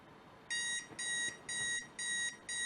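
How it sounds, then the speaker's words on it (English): An alarm clock rings in a steady pattern of bright electronic beeping bursts, about four repeated pulses separated by short gaps, fairly quiet over a low background hiss. "waking up's tough on that first alarm"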